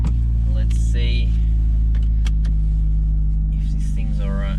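Steady low engine rumble from inside a moving Mitsubishi Lancer Evolution VI, with a voice talking over it and occasional clicks and rattles, including ticking from the dash.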